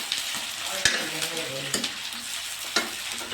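Potatoes and chickpeas frying with onions on a chulha, stirred through a steady sizzle, with sharp spoon scrapes and clicks against the pan at irregular intervals.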